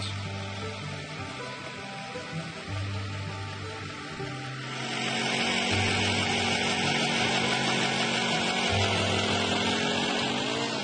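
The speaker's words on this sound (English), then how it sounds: "a good reliable powered ice auger is essential equipment" A powered ice auger drilling through lake ice drones steadily, then its pitch and intensity rise as it bites in and keeps grinding, a loud continuous mechanical whine close by.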